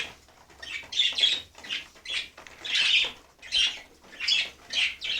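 Pigeons feeding on scattered grain give repeated harsh squawks and chirps in short bursts, with faint wing flutters, close and moderately loud, and no one speaking.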